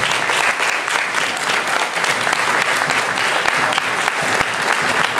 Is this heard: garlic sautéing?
no